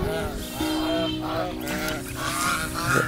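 Geese honk loudly and continuously as they are fed close by, their calls layered over a busy background with some voices.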